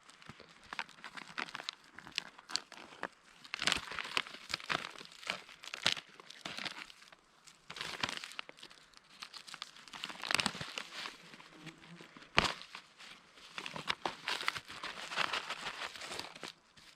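Close, quiet crinkling and rustling of a freeze-dried expedition meal pouch being handled and torn open at its tear notch, with irregular crisp bursts of packaging noise and no talking.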